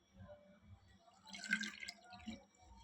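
Water pours from a glass into cauliflower pakoda batter in one short splashing burst near the middle, close by and moderately loud, with quiet kitchen noise around it.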